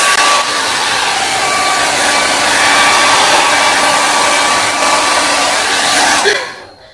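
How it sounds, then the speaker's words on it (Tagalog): A hair dryer blows steadily at close range on long, thick hair, a loud continuous whoosh that holds for several seconds before switching off near the end. "Matagal ako mag-blower dahil yung buhok ko ay makapal at mahaba na rin."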